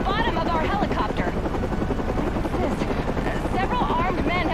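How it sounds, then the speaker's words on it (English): A news helicopter hovers close in the video game Batman Arkham Origins, its dense rotor and engine roar steady and loud throughout, with voices talking over it. "somehow hanging from the bottom of our helicopter"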